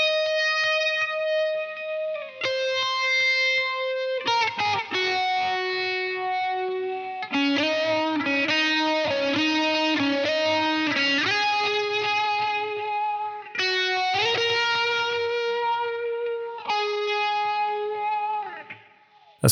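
Distorted electric guitar plays a sustained, hummable single-note melody through effects pedals, loud and steady for the whole stretch with shifting notes and no talking.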